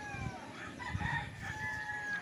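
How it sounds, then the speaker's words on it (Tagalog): Roosters crowing across a chicken farm, several long overlapping calls at moderate distance with low clucking beneath, no voices. "Ang dami manok dito, mga kaibigers."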